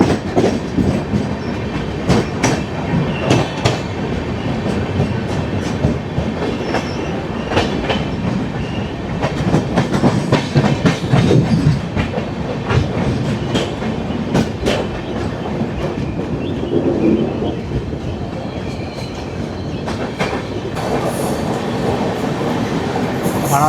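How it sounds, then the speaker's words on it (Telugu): MGR Chennai Central–Mumbai LTT SF Express, train number 12164, rolling on the rails after leaving Kandala, a steady loud rumble with rhythmic clickety-clack of wheels over rail joints throughout. "మన ట్రైన్ కండాలకి ప్లాట్ఫామ్ 3కి అయితే వచ్చింది, బయలుదేరిపోయింది."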